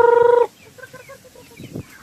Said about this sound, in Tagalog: So, andito na sila sa ating munting yard. Sa ating native chicken.